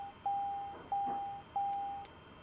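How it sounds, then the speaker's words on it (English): Cockpit alarms in Microsoft Flight Simulator: three steady electronic beeps, each about half a second long, repeating at an even pace and fairly faint, over a low background hum with no talk. "Let's turn off the alarms."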